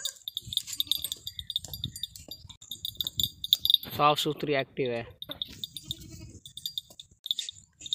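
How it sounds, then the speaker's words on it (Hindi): A healthy, active goat gives a clear wavering bleat in the middle of the clip, with someone talking and crickets chirping in the background. "खूबसूरत बड़ी अच्छी बकरी है"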